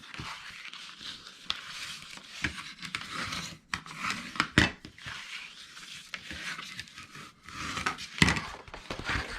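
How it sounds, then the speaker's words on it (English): Medium to heavyweight file folder cardstock being folded along score lines and burnished flat, heard as close, soft rubbing and scraping strokes with occasional sharper crinkles and snaps, no voices. "And then I'll fold and burnish all of my score marks."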